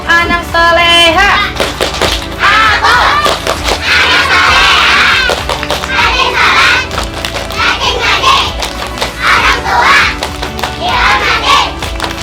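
Kindergarten children at an Islamic boarding school shout group chants together, loud and continuous, with many young voices mixed in a lively crowd.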